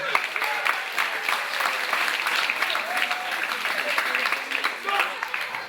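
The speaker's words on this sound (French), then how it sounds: "peut l'applaudir à grand bruit" Applause from an audience at a street performance by Les batteurs de pavés, a busy, continuous patter of clapping heard alongside voices and crowd talk throughout.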